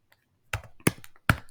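Keys click on a computer keyboard while commands are typed into a PuTTY SSH session on a Raspberry Pi: three sharp, separate taps spaced about a third of a second apart in an otherwise quiet room.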